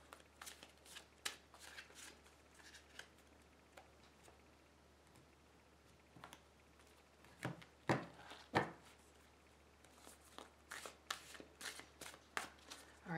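Tarot cards are shuffled by hand in quiet, close riffling bursts and soft taps, coming in irregular clusters with pauses in between.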